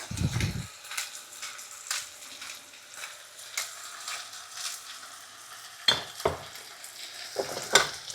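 Stirring a pumpkin dish with white wine, cream and tuna in a sizzling pan, seasoned with nutmeg, black pepper, salt and Italian herbs: a steady frying hiss runs under repeated scraping strokes, with a few sharper clinks of the utensil against the pan near the end.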